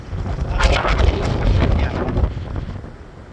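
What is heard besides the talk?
strong wind at the beach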